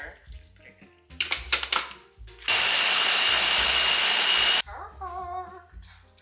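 A kitchen blender whirs loudly for about two seconds as it purées tomatoes, peppers and water, a steady harsh roar that starts and stops abruptly between knocks and clatter, with a voice heard briefly afterward.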